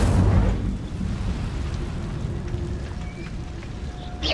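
Incendio fire spell cast in Hogwarts Legacy: a heavy rumbling burst of flame that opens with a loud whoosh and settles into a sustained crackling roar, with faint game effects layered on top.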